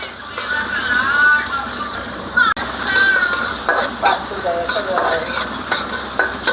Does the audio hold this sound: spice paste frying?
yes